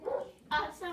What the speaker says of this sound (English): You hear the barking?